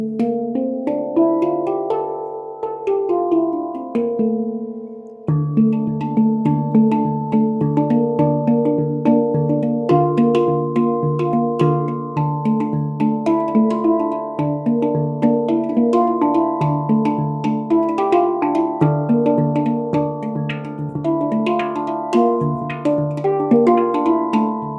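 A cheap Amazon handpan rings out in a sustained melodic passage, its struck steel notes blooming with warm overtones and overlapping resonance, played continuously and close, with no voices.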